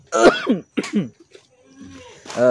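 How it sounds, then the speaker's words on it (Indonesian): A few harsh coughs and throat clearing up close, broken into short bursts with pauses between. "saya juga udah batuk-batuk ini."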